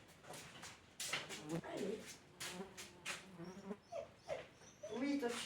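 A small female dog whimpers and whines at a door, wanting to go outside, in short high-pitched bursts under a woman's close, coaxing speech.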